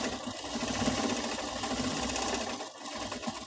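Sewing machine running steadily while stitching a narrow line along the edge of a frock's Peter Pan collar, a continuous whirring drone with a brief pause near the end.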